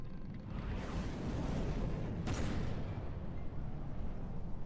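A continuous low rumble of heavy cannon fire in the game From The Depths, with a single sharp blast cracking through midway.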